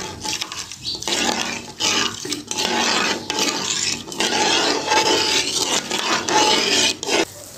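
Semolina halwa is stirred in ghee in a pan, a steady scraping, rasping rub of spoon against the pan bottom with brief pauses between strokes, close and moderately loud.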